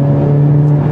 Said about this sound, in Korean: 현재 상태는 TCR로 배기음을 설정을 했고요.